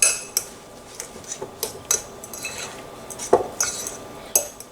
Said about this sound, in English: You just crush those lumps up and mix it around thoroughly.